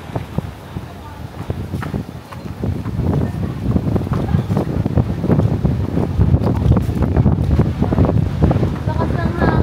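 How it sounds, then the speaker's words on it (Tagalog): Strong wind buffets the microphone at a beach in Bolinao, a loud, continuous roar with gusts and rumble, persisting throughout the clip. "Lakas ng hangin."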